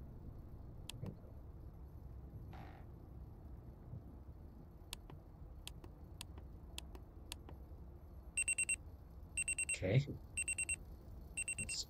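An alarm clock in the horror game Amanda the Adventurer rings in repeated short electronic bursts near the end, following scattered clicks over a quiet, hissing room tone, with one brief spoken word.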